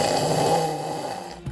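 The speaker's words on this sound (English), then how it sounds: "you do snore." A man snores steadily at close range, a raspy, continuous rumble that holds for over a second before breaking off.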